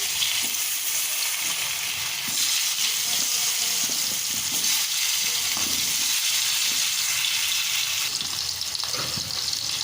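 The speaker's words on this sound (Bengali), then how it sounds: "এবার ওই একই তেলে আলুর টুকরোগুলো ভেজে নেব।" Potato pieces sizzle in hot oil already used for frying rui fish: a loud, continuous, even crackle that holds steady throughout, with no talking.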